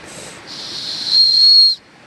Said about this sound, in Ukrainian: Оцей свисток знімається